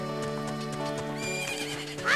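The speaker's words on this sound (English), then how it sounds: "There are horses running around everywhere." Horses in Ocarina of Time gallop with clip-clopping hooves under a sustained, loud neigh, then a brighter whinny rises at the end.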